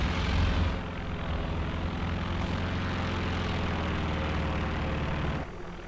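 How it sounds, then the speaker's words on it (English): A propeller-driven reconnaissance aircraft in the Company of Heroes 2 war game flies over, a loud, dense engine roar that fills the clip and then cuts off abruptly near the end. "Enemy aircraft! Another reconnaissance aircraft."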